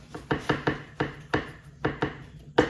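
A knife slicing through fresh ginger on a cutting board, a steady run of about a dozen crisp, close chopping strokes in uneven pairs and singles, with no talking.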